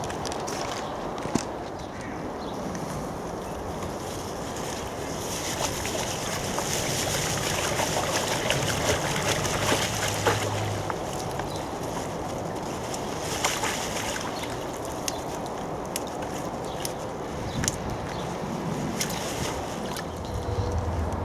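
Freshly harvested overwintered onions and shallots are swished and rinsed in water at an allotment, giving continuous sloshing, trickling and splashing with a light outdoor breeze behind it.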